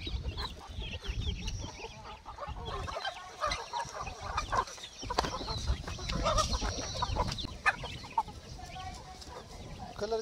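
Free-range desi roosters and hens on a farm cluck and squawk nearby in a busy, overlapping chorus, and people talk now and then among the birds.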